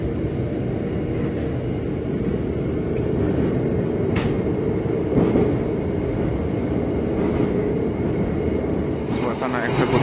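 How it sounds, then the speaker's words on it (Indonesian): Steady low rumble and rattle of an executive-class passenger train rolling along rails between Jakarta and Surabaya, continuous and close, with people talking faintly in the background. "padahal ini kereta"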